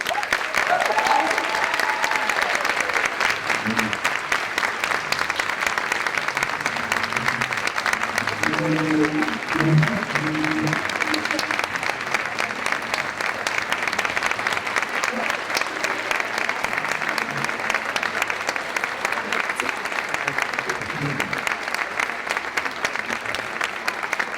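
An audience breaks into sustained, loud applause to welcome speaker Carol Walters at a 25th anniversary WOW event, the clapping steady and dense for the whole stretch with a little crowd murmur underneath.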